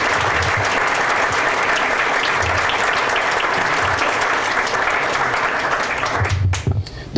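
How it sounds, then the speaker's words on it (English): An outdoor audience at a nature school dedication applauds the guests, with sustained loud clapping from many hands that fades near the end. "Let's give our guests a round of applause for being here."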